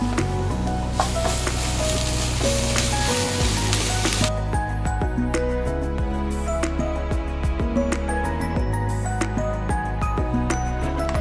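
Softened onion with a tablespoon of ginger-garlic paste sautés in a pan for Malabar chicken chatti pathiri, a steady sizzle with frequent utensil scrapes and clicks, faintly backed by a low, tonal, music-like bed.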